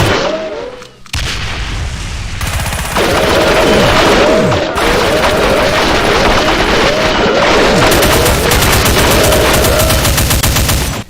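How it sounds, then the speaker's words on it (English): Nonstop rapid gunfire in a Doom mod, where a Revenant variant unleashes a dual barrage of wall-bouncing bullets, loud and dense with overlapping shots and booming impacts throughout. "It can also shoot a continuous dual barrage of wall-bouncing bullets."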